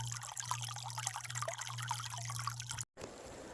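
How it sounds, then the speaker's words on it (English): A river in the Hudson Gorge Wilderness of the Adirondacks, heard from the Blue Ledges Trail as a faint, steady trickling flow with a low constant hum beneath it, cut by a brief dropout near the end. "we can hear the river"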